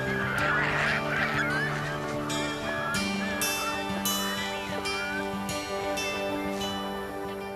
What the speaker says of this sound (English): Thousands of waterfowl come to rest at the salt lakes and ponds.